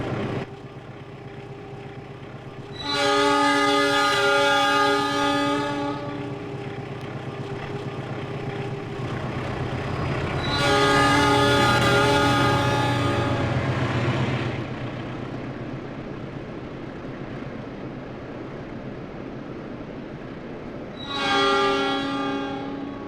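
Simulated Indonesian passenger train in Trainz Simulator running steadily between Bangil and Sidotopo, with a continuous low rumble and three loud, sustained horn blasts, the first two long and the last shorter.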